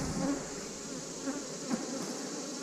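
Honey bees hum in a dense, steady drone at an opened hive, close and continuous, with no voices.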